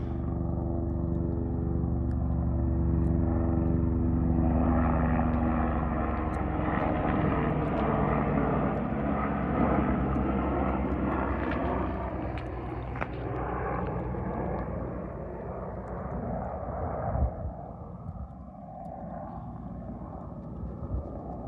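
A continuous, loud engine roar with a rhythmic beating drone fills the whole stretch, swelling and then fading slightly as a helicopter passes overhead near the Grand Canyon.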